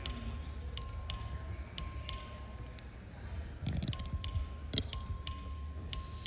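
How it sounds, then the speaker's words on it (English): The clerk's voting bell in the Texas House chamber rings in a series of sharp, bright metallic dings spaced through the room, with a short gap midway and quiet murmur in the background. "The clerk will ring the bell."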